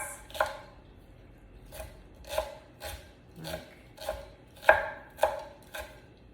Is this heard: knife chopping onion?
yes